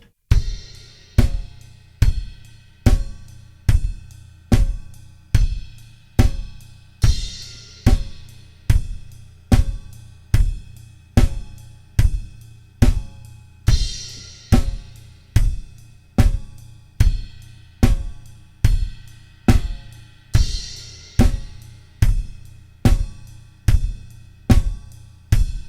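A drum kit plays steady eighth notes on the ride cymbal over a driving kick and snare groove, with a crash landing every two bars, in a pop-funk beat. Loud, close and unbroken throughout, with no voices.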